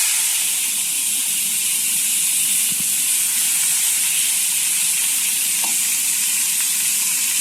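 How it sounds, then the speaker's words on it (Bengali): Mustard seeds fry in hot oil with a continuous bright sizzle and hiss, broken now and then by faint pops and a stirring scrape. It sounds close up in a home kitchen, with no talk. "সরষেটা ফুটে গেলি এরকম করে একটু ভুটে নেব"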